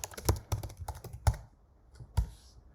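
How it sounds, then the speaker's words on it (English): Typing on a computer keyboard while entering an email subject line: a quick run of close, crisp key taps with a few heavier thumps, then two isolated keystrokes after a short pause. "I will type the email subject here."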